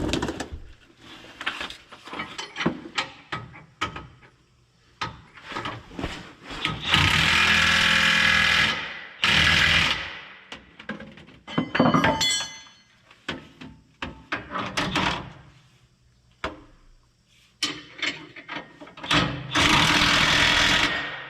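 An impact wrench fastening shocks on a trailer during wreck repair, loud buzzing bursts of rattling hammering repeated several times with pauses between, close by, amid clanks and handling noises.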